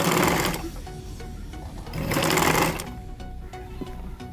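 A sewing machine stitches around a dress neckline with gathered fabric, running steadily up close in several bursts, louder runs around the start and middle with a lighter rattling stretch at the end.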